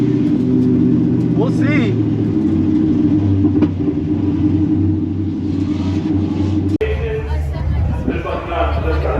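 A 2014 Camaro SS engine runs with a loud, steady low rumble and droning tones that shift near the end, while people talk briefly over it.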